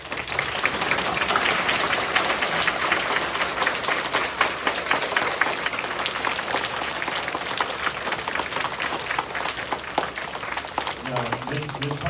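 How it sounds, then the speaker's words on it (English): Students at an elementary school veterans event give service members a round of applause, a steady, loud crowd clapping that fills the room throughout, with some voices and cheering mixed in. "I need you to give all these service people in this building right now a round of applause."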